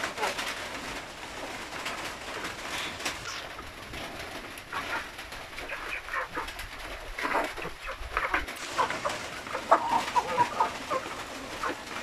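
Free-range chickens of the Basilan breed cluck among outdoor background noise, with scattered bird calls and short peeps throughout, moderately distant.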